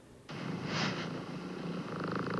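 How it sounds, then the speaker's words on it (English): A cat purring up close, a continuous rumbling purr starting abruptly after a brief quiet moment and holding steady and fairly loud to the end. "Oh no, it's just purrs."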